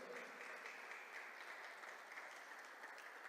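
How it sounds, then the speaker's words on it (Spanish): A church congregation claps together in sustained applause, a dense wash of many hands that stays even and fairly distant throughout, with no clear talking over it. "Le damos un fuerte aplauso al Rey de Reyes"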